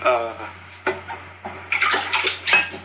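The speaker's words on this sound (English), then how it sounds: "just water on my recorder" Water splashes straight onto a handheld recorder at very close range, producing loud, irregular bursts of spatter and sloshing that come in quick clusters.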